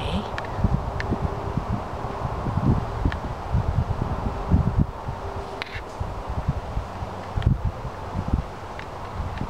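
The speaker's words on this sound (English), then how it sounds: "Very windy today." Strong outdoor wind beside periwinkle flowers produces continuous low buffeting on the microphone, swelling in repeated gusts over a soft rustling bed, with no clear talk.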